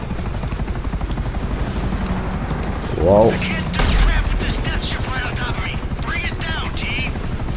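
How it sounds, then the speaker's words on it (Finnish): Helicopter in Grand Theft Auto 5 on PS4, with its rotor beating in a continuous rapid chop throughout, joined by bursts of gunfire and game voices, plus a player's brief exclamation. "Seuraava kopteri"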